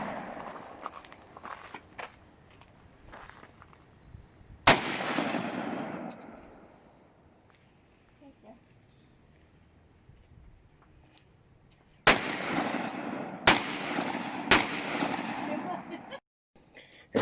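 Panzer BP12 2nd Gen shotgun firing at an outdoor range, with a few loud, sharp blasts separated by long gaps, the later ones in a quicker cluster, amid background noise and nearby talk.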